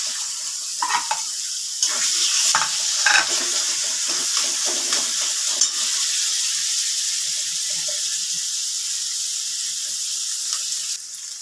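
Chhana (fresh cheese curd) and green chillies hit a hot pan for a chhana and eggplant curry, giving a steady loud sizzle with a few clinks and scrapes early on and no talking.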